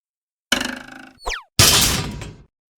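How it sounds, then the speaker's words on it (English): A loud cartoon crash in a children's phonics game: a springy boing with a wobbling rhythm, a quick descending whistle, then a bright, noisy clattering crash that fades out. "Oops, that made a very loud crash."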